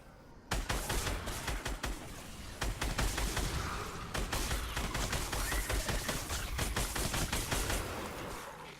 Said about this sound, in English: someone actually trying to shoot me